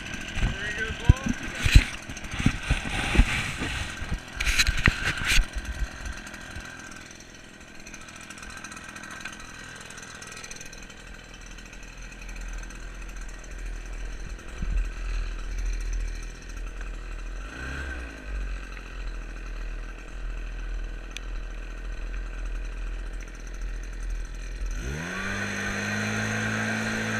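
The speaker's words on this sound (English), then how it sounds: "Got the old Red Max here warming up." An old Red Max power-equipment engine warms up outdoors on a rainy, windy, cold day, with a steady running drone after several loud revs and knocks at the start.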